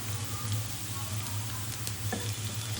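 Onions sizzle steadily in hot oil in a pan, cooked slowly until reddened for a goat meat curry, with a continuous close crackling hiss and no talk.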